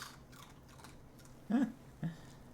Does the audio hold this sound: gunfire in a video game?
no